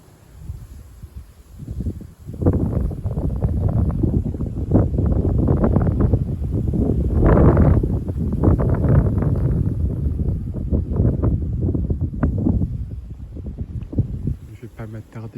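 Gusty south-east wind blows at night, a loud broadband roar buffeting the microphone in surging waves for most of the stretch, easing toward the end.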